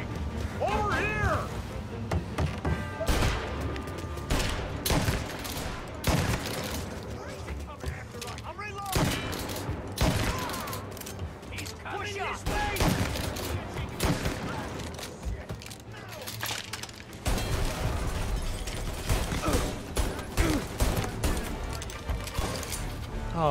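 Rapid Tommy gun bursts and other gunfire crackle through a chaotic Mafia Definitive Edition firefight, loud and sustained over about twenty seconds, with music and a voice talking over the shooting.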